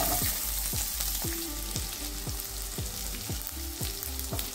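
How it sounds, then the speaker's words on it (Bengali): Chopped onions frying in hot oil with curry leaves, whole garam masala and black peppercorns for a rice dish, a loud, close sizzle with regular, rhythmic popping bursts. "এবার দিয়ে দেবো পেঁয়াজ কুচি"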